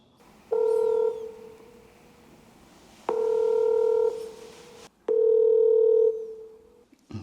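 A telephone call tone sounds three times in steady one-second beeps separated by pauses, clear and close, as an outgoing call rings without answer.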